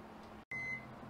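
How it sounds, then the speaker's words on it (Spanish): A microwave oven drying cilantro hums steadily, cuts out briefly, then gives a single clear electronic beep as the cycle ends, close and quiet. "Y esta sería la quinta vez o quinto minuto de nuestro cilantro en el microondas"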